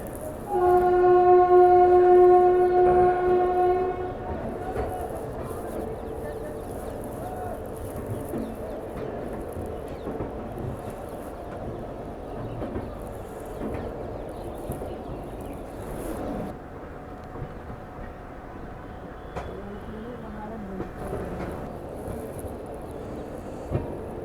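A Barauni Clone Special Humsafar Express leaving New Delhi on a cold day opens with a loud sustained horn blast, then settles into a steady rolling rumble of moving coaches.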